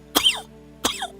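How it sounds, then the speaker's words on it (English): Two harsh, throaty coughs, close and loud, with a pause between them and another cough just starting at the very end. "I'm coughing up a lung here"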